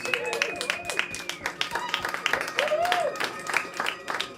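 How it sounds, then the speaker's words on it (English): A comedy-show crowd gives scattered claps and patchy applause while a voice keeps talking over it throughout. "Round of applause if you know who Robert Pritchard is."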